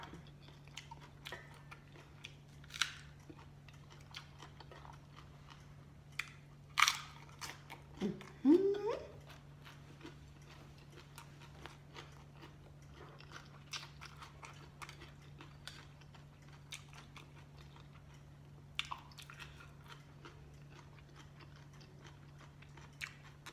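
Chewing crunchy vegetables eaten with spicy papaya salad and boiled eggs, soft intermittent crunches and bites up close over a steady low hum, with a louder burst of crunching midway.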